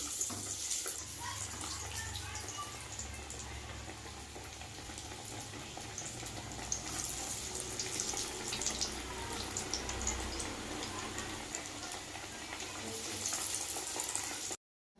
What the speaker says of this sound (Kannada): ಇದಕ್ಕಿವಾಗ ವಡೆ ಹಾಕ್ಕೊಳ್ಳೋಣ ಎಣ್ಣೆ ಕಾದಿದೆ ಇದಕ್ಕೆ ಇವಾಗ ಬಿಟ್ಕೊಳ್ತಾ ಬರೋಣ